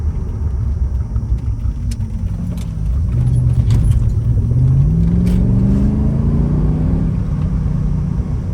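A rare V8 AMG Mercedes engine revs up in a deep, rising roar, climbing over several seconds from a low rumble to a loud, sustained pitch close to the car.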